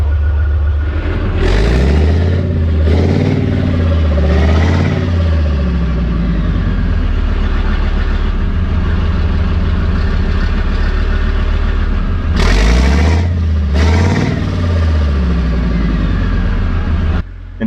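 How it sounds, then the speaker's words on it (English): A Leopard tank's Krauss Maffei-built supercharged diesel engine turns over and fires, loud deep rumbling with a few surging revs early and again near the end, otherwise a steady heavy idle, close and alone. "The tank is powered by a supercharged diesel engine that develops approximately 610 kilowatts"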